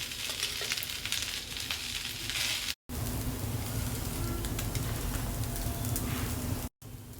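Cooked rice being mixed and fried in a pan for a quick lunch-box dish, a dense hissing sizzle like rain with soft stirring, steady and close, interrupted by two brief silent cuts.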